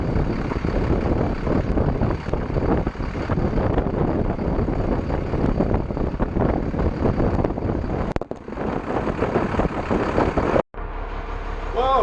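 Strong wind buffets the microphone outdoors beside a step van on grass, a loud continuous roar with gusty surges and a brief dropout near the end.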